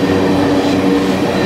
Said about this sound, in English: This godforsaken train is finally going a little faster.